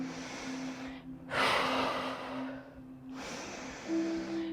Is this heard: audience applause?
no